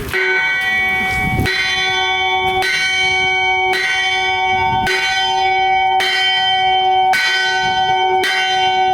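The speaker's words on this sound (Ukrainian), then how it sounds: "По закінченню освяти військові забили у дзвін" A church bell rings loudly and repeatedly after a consecration ceremony in steady, evenly spaced strokes, each ringing tone overlapping the next, with no voices.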